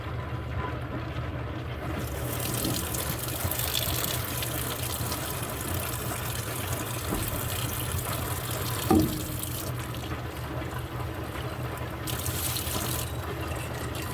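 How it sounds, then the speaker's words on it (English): Running water rinses the barrel of a Lot-O vibratory rock tumbler between polishing stages, a steady close splashing stream with a faint hiss that continues unbroken throughout. "This is how I clean the barrel between stages."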